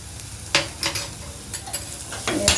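A spoon stirs amaranth greens with onion chili paste in a pan, giving a few distinct scraping strokes over a low, steady sizzle, close up and fairly loud.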